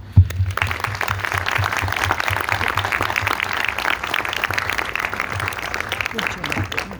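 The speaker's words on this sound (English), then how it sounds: "we're all going to give him applause of support and appreciation" A crowd at the US Naval Academy breaks into sustained, loud applause that carries on steadily for several seconds without letting up.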